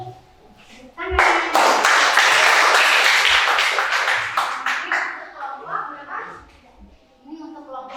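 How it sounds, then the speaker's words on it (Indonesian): In a classroom, students break into brisk clapping that builds to dense applause for several seconds, then thins into scattered claps, with a teacher talking before and after. "Tepuk tangan."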